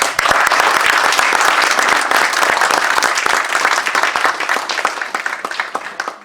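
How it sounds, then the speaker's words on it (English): Conference audience at the United Nations gives a loud, dense round of applause for an honoree, many hands clapping at once and sustained for several seconds before gradually thinning out. "Let's give her a round of applause"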